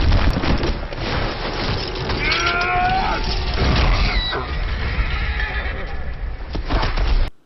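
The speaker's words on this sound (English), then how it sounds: "Since when does Conan need a chain to knock out a horse?" A horse whinnies in the film Conan the Barbarian, a loud, wavering neigh in the middle of the scene, set over a rumbling film soundtrack with other animal noises.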